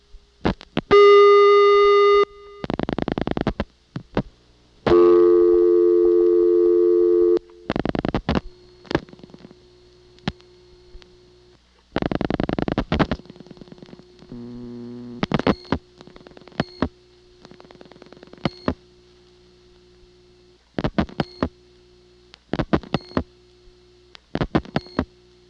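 Number 591 dialed slowly on a rotary line through a Siemens motor switch exchange in Ocala, Florida: bursts of clicking pulses, switching tones and hums alternate with gaps as the call advances, loud and close, no voices.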